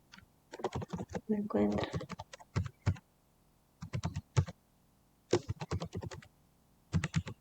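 Bursts of clicky typing on a computer keyboard, close and crisp, in short irregular runs separated by pauses, with a voice speaking briefly between keystrokes.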